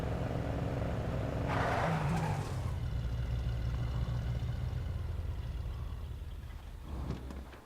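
A truck engine in the video game State of Decay runs loudly and continuously, rising in a brief rev early on before settling into a steady rumbling drone that eases slightly toward the end.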